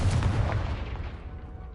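A Confringo explosion spell from the video game Hogwarts Legacy bursts as a single heavy, booming blast that rumbles and fades over under two seconds.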